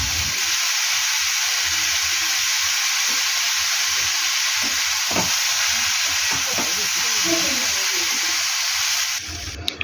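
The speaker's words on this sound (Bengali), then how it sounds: "প্রথমে কিছুক্ষণ ভালোভাবে এটাকে তেলেতে ভেজে নেবে।" Pieces of papaya frying in oil in a pan give a strong, continuous sizzle with scattered stirring clicks and scrapes, running nearly ten seconds before cutting off abruptly.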